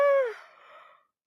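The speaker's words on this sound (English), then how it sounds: "I'm yawning." A short yawn from a person, a voiced, drawn-out sigh that begins with a loud tonal note, slides down, and trails off into breathy air within a second.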